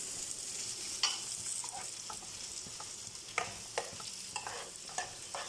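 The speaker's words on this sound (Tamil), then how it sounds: "நான் இப்போ பெரிய வெங்காயம் தான் போட்டிருக்கேன். நல்லா வதங்கட்டும்." Sliced large onions sauté in a pan for a tamarind curry with okra, giving a soft, steady sizzle broken by a few sharp scrapes and taps of a stirring spoon, quiet and close with no talking.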